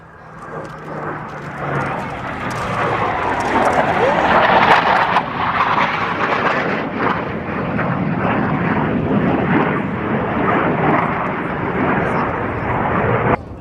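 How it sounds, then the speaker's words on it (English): U.S. Navy Blue Angels jets performing at the 1997 MCAS El Toro air show, a loud, sustained roar that swells in the first seconds and holds steady, heard from a distance across open ground. "the diamond will split, with all 4 aircraft exiting the flight line in separate directions"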